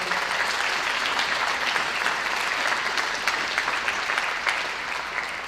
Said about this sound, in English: Let's give a round of applause to your parents.